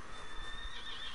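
A horse in the video game Red Dead Redemption whinnies with a drawn-out, wavering high neigh over faint hoof clops, fairly quiet in the background.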